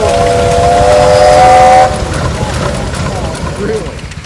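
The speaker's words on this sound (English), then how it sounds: "I know Frank's got the whistle" A train whistle at a tractor parade sounds in steady tones for nearly two seconds, then cuts off, leaving rumbling rail noise and faint voices.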